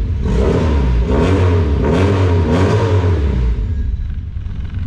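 A 1989 Volkswagen Gol GL with a 1.8 engine idles loudly and close, then revs up in a few swelling pushes before settling back, with no talking over it.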